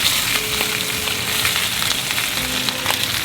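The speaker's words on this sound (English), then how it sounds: "You want to hear that hit sizzle?" Bacon sizzles and crackles steadily in a hot pan, a loud constant hiss with small pops throughout.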